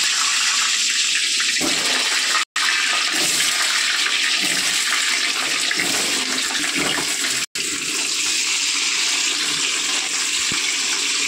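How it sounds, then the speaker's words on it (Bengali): Cooking oil pours steadily from a jar into a wok for a mutton curry, a continuous gurgling liquid rush that stays loud and close with no talk over it. "তেলের জারটা খালি, তেলটা ঢেলে নিই।"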